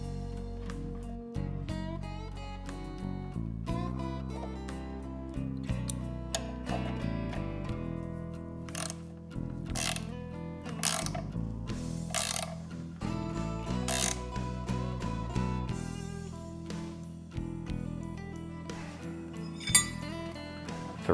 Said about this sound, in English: thread the alignment sleeve onto the housing and the puller onto the failed seal